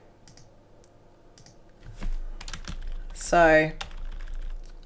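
Typing on a computer keyboard, soft clicks tapping in short bursts near the microphone, with a voice speaking briefly over them.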